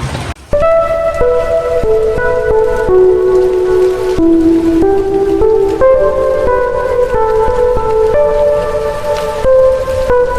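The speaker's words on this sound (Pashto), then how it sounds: "او باران ښه تیز شو" Heavy rain pours down steadily and loudly, with a constant tonal hum running beneath the dense hiss of the downpour.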